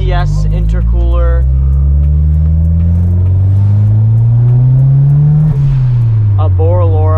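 A modified car fitted with a smart blow-off valve and an ETS intercooler revs loudly up close, the engine note climbing steadily before the valve releases with a sharp whoosh, while people talk and cheer over it.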